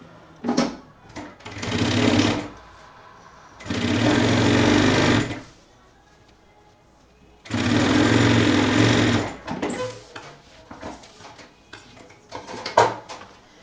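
A sewing machine stitches a men's backpack in three long, loud, steady runs separated by pauses, with small handling noises between runs and no talking.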